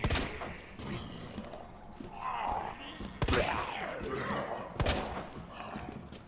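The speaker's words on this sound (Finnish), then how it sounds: "No nyt ammut Justin kerran" Gunfire in the Resident Evil 2 Remake video game: a few sharp, loud shots ring out at irregular intervals over dark game ambience, with someone talking in between.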